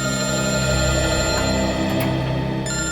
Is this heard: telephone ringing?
yes